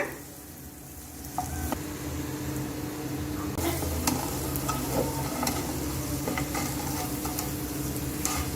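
Pieces of asafoetida frying in hot oil for homemade sambar powder, with a continuous close sizzle and crackle plus scattered stirring clicks, growing slightly louder after the first second, with no voices.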